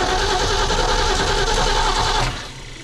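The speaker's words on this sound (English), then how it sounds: "Crank her up." A 1968 Ford F100 truck engine cranks over with a steady, loud mechanical churn for a couple of seconds, then drops off abruptly near the end, with no voices.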